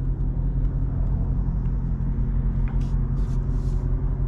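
A widebody Dodge Scat Pack rolls through Pompano, Florida, its engine a steady low rumble heard from inside the cabin, with faint road noise and a few light clicks over the top.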